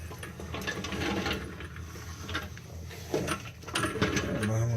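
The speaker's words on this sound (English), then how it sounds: "we're going to try to reach up in there and start taking those bolts loose" A ratchet wrench works loose bolts under a car, giving quick, fairly faint clicking bursts mixed with metallic clanks and some background rumble.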